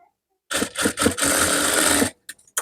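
A sewing machine stitches a half-inch seam on fabric in a tailoring class: a close, steady whirring run of about a second and a half, with a stuttering start and a couple of short clicks afterward.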